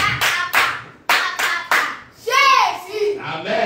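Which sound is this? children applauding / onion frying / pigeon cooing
children applauding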